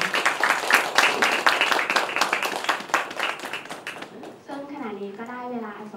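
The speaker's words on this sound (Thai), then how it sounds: "ขอเสียงปรบมือให้กับท่านวิทยากรสองท่านด้วยนะคะ" Audience clapping for two guest speakers at a talk, a dense burst of applause that fades, followed by someone speaking.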